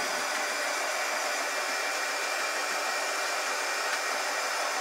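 A hair dryer blows steadily and loudly nearby as it dries fresh paint, an even airy roar with no breaks or talking.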